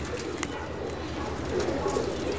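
Pakistani flying pigeons of mixed breed cooing in a loft, soft low calls under steady background noise.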